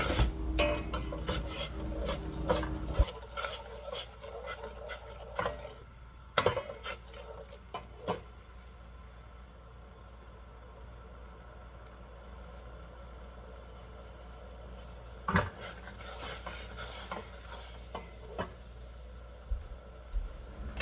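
A spoon scrapes and rasps against a pot as seasoning powder is stirred into liquid while making Thai glass noodle salad, loud steady scraping at first, then softer intermittent strokes with sharp clinks and taps near the end.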